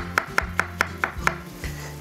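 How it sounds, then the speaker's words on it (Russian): A knife chops mushrooms on a board in six sharp, evenly spaced taps, then a softer final cut, close and clear with no talking. "Сейчас я нарежу все грибочки"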